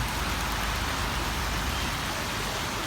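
Steady rain falls on a wet morning, making a dense, even hiss with no breaks and no voices.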